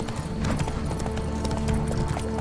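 Horse hooves clip-clop steadily and fairly close in The Witcher 3, set in Toussaint, with a continuous low rumble of ambient game sound underneath and no talking.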